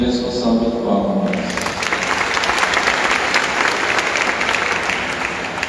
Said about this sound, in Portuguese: também peço a salva de palmas